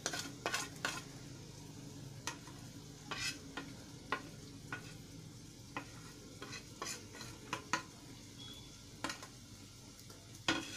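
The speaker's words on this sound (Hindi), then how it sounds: "अब इसे 2 मिनट तक और भून लेंगे।" Rice with soyabean, peas, coriander powder, salt and spices is stir-fried in a pan. Faint sizzling runs under a quiet series of irregular scraping and tapping strokes from the stirring spoon.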